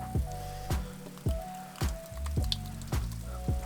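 Cheese mix poured over lasagna noodles makes a string of soft, wet squishing plops at a roughly even half-second rhythm, close and moderately quiet with no voices.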